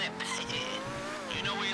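A car speeds up in GTA V Online, with tyre squeal and a rising engine note over a short burst, while voices talk over it.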